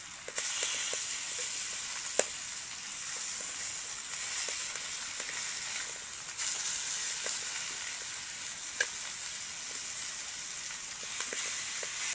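Large katla fish pieces coated in flour fry in hot oil in a pan, giving a steady loud close sizzle throughout, with occasional faint clinks and taps as pieces are turned over one by one.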